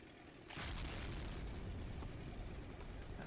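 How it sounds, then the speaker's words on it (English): Loud explosion in the Men of War Assault Squad 2 World War II strategy game, a sudden boom that erupts and rolls on as a sustained, dense rumble for several seconds. "Explosion."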